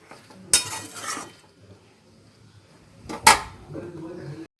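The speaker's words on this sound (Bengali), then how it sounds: "খুব ভালো করে পেঁয়াজ ক্যাপসিকাম মিশিয়ে নিয়ে আবারও কিন্তু ধিম আঁচে নাড়াতে থাকবো।" Onion and capsicum stirred in a pan over low heat while making chilli chicken, giving two sharp utensil scrapes and clanks against the pan with soft sizzling and shuffling between them, close and moderately loud.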